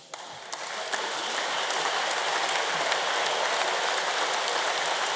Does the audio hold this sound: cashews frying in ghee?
no